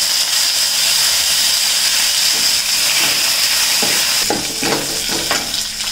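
Dried red chillies sautéing in a pan for pepper rasam, with a loud steady hiss and sizzle, then several scraping stirs toward the end, close by and with no voices.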